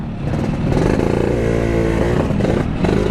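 A motorcycle that had stalled and was pushed runs again after restarting, its engine loud and close with a steady throbbing idle, rising revs and mechanical clatter throughout.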